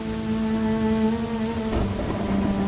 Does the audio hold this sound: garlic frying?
no